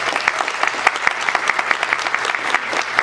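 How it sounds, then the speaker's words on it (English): An audience applauds at a U.S. State Department spoken word event, a dense, steady burst of clapping from a crowd lasting the whole stretch with no voices over it. "Please give them a round of applause."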